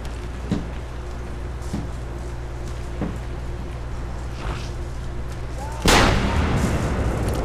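A long-range gunshot in Assassin's Creed Revelations lands as one loud sharp crack near the end, following a few faint thuds over a steady low game hum.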